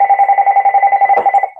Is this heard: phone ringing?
yes